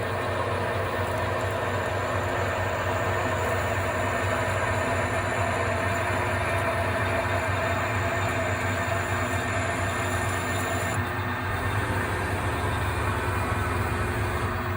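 A metal lathe cuts a left-hand Acme thread for a cross slide lead screw with the tool upside down. It makes a loud, continuous machine hum and whir that stays steady throughout, with no voices.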